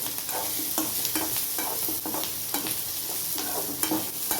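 Onions sautéing in a pan with cooked dal, dried red chillies and tamarind for a pirandai chutney, giving a steady sizzle broken by regular scraping stirs close by, with no talk.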